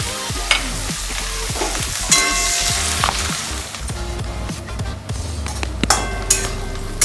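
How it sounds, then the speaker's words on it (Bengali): Chopped onions frying in hot oil with lots of whole spices, a loud, constant sizzle under repeated scraping and clacking from a stirring spoon against the pan. "এবার দিয়ে দেব কুচানো পেঁয়াজ"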